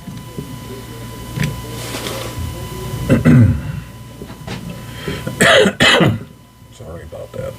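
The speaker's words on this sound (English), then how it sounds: "Coughing." Several rough coughs and throat clearings, close to the mic, spaced out over a few seconds with quiet pauses and a faint electronic hum from a powered-on iiRcade arcade machine between.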